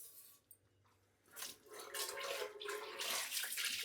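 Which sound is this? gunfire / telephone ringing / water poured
water poured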